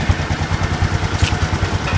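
A Honda Future 125 FI motorcycle idles steadily after its idle speed has been adjusted, its engine close and loud with an even, fast chugging pulse and slight mechanical clatter, with no voices.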